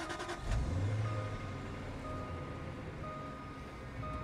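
A supercharged Jaguar XKR cranks and fires, a short starter burst that catches and settles into a quiet, smooth idle, faint and close.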